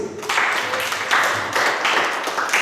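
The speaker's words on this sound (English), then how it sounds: "Clap please." Children at a Hindu temple children's program clap together in a steady, dense burst of applause, close and fairly loud, lasting a couple of seconds with uneven pulses.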